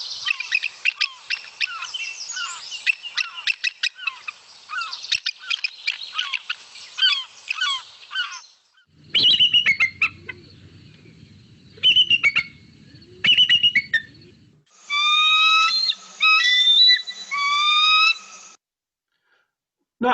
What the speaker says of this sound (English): That is the typical calls of bald eagles.